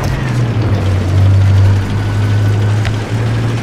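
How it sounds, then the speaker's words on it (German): A fighter jet in the video game Battlefield 4 passes overhead as a steady low engine drone, swelling slightly toward the middle, with faint game noise around it and no speech. "das da oben, was da fliegt, ist ein Kampfjet"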